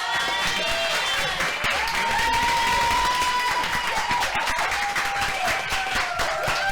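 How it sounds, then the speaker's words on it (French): An audience bursts into sustained applause at a live show, dense steady clapping filling the room with a few whistles or voices rising through it. "On peut applaudir."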